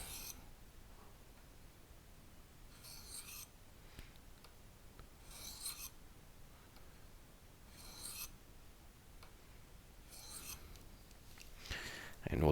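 Light, pressure-free strokes of a fixed-blade EDC knife across a sharpening stone to remove the burr, heard as faint, soft rasping passes repeating about every two to three seconds in a quiet setting.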